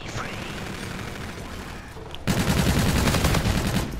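Gunfire rattles in a Call of Duty Infinite Warfare match, beginning as a muffled steady rumble and then breaking into a loud, sustained automatic burst near the listener.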